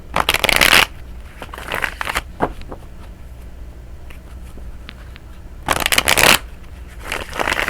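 A deck of tarot cards is shuffled up close: two loud riffling bursts, one at the start and one near the end, with softer card handling and taps in between.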